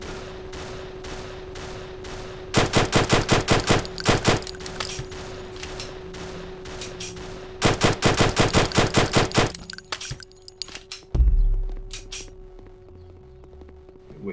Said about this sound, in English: let the machine gun take them out